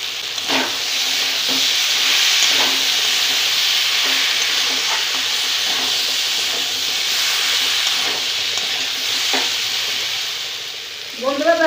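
Mixed vegetables and paneer with paneer masala sautéed in a pan, a steady close sizzle broken by repeated scraping stir strokes throughout, with no talk.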